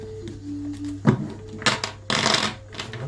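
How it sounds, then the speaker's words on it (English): Deck of tarot or oracle cards shuffled by hand indoors, crisp riffling bursts and papery flutters in short irregular rushes, close and fairly quiet with no talk. "just shuffling the cards, the sound of the cards"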